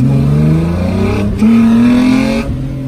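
A rear-wheel-drive car's engine holds a loud, steady rev around 4000 rpm with a rising pitch, dipping briefly before surging again, close and continuous with no voices.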